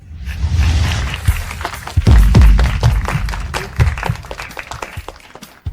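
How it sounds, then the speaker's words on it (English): A crowd at a prize ceremony gives a round of applause, heard as uneven clapping mixed with thumps, rustling movement and a few louder bursts, rising and falling rather than holding steady. "Let's give them a round of applause"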